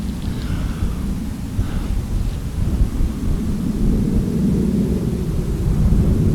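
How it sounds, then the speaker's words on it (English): A big plane flying low and slowly overhead makes a steady, broad, rumbling roar that fills the open countryside near a Derbyshire Neolithic monument and swells gradually louder, with no talking. "There's only one plane in the sky."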